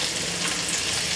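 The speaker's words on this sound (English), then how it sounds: "We're just heating up these meatballs here." Meatballs heating in garlic-infused olive oil in a pan, giving a steady, close, continuous sizzle and crackle of frying with no pauses.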